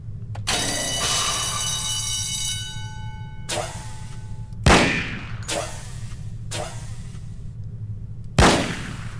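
P08 Luger pistol shots in N.O.L.F., several sharp, loud reports at irregular intervals over a steady background hum, with a ringing tone early on.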